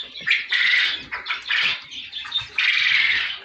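Quail chicks in a wide coop give a busy run of high, chirping peeps, near and fairly loud, overlapping in quick bursts with brief gaps throughout.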